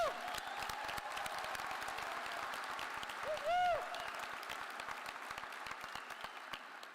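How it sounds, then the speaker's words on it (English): A graduation audience at Kelly Walsh applauds its student speakers, a broad, continuous roar of clapping from a large crowd with a short whistle-like tone rising in the middle. "One more round of applause for those 4 amazing student speakers."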